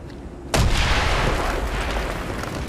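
A wall-breaching explosion in Call of Duty: Black Ops erupts as one sharp, loud blast, then a long roaring rumble of debris and echo that stays strong to the end.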